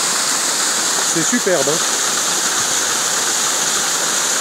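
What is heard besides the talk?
waterfall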